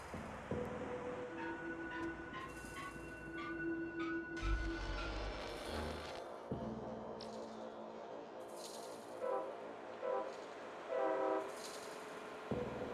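A video game train blasts its horn in long tones over the clatter of a passing train, with further horn bursts near the end and no voices.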